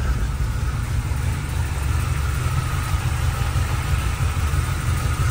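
A GM Performance 350 crate engine idles after a cold start, a loud steady low rumble with an even pulsing throb that holds without a break, nobody speaking over it.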